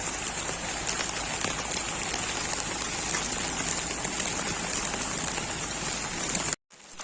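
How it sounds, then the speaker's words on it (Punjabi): Heavy rain pouring down on a waterlogged village street and bus stand, a dense continuous hiss of drops hitting water and surfaces, steady and close, briefly cutting out near the end. "ਤੇ ਬਰਸਾਤ ਬਹੁਤ ਜ਼ਿਆਦਾ"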